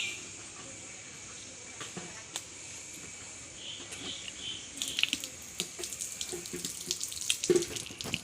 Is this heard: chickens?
no